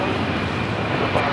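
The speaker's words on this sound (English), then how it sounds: "Heading off to Lima, Peru on the 767 300ER" A Boeing 767-300ER airliner departs LAX bound for Lima, Peru, its engines a loud, steady broadband roar filling the whole moment without any talk.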